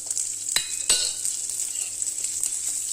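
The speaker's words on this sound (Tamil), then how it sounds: "எண்ணெய் ஊற்றிருக்கிறேன், எண்ணெய் காஞ்சிருச்சு. கொஞ்சம் ஜீரகம், 4 வெங்காயம், 10 பல்லு பூண்டு போட்டிருக்கேன்" Cumin, four onions and ten garlic cloves fry in hot oil, giving a steady bright sizzle with a couple of sharp scrapes of a spoon against the pan early on.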